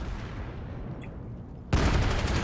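Gunfire from a competitive match of the game Vail, starting as a dull muffled rumble and then breaking into a sudden, much louder burst of close shots near the end.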